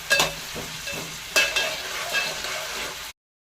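Potatoes fry in hot oil for sabudana khichdi while a spoon stirs them, giving a steady sizzle broken by two sharper scraping clatters near the start and middle, close and fairly loud, with no voices.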